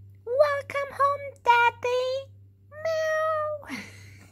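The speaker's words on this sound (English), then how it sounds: "the cat says, meow, meow, meow" A cat meows several times in short, clear, close cries, a run of quick meows followed by a longer drawn-out one, alone against a quiet low hum.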